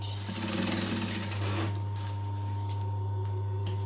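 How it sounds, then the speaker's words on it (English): A sewing machine stitches bag lining with a loud, close, steady motor hum, busier at the start and then settling into a smoother drone with a few faint clicks. "Stitch it to the dot"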